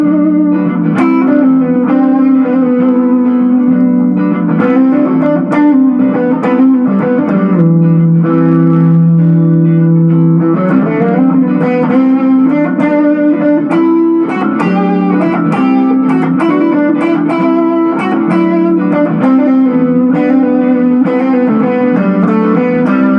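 A distorted electric guitar plays sustained, fuzzy chords and notes continuously, loud and saturated with effects.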